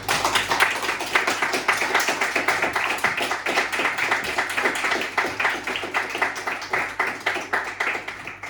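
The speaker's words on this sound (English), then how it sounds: "Big round of applause," Audience at a London animation club talk gives a big round of applause, with a steady rhythmic clapping from a modest crowd that holds for several seconds.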